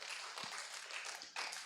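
Scattered clapping from a church congregation at a Wednesday service, a few hands patting steadily and fairly faintly for a moment with no voices over it.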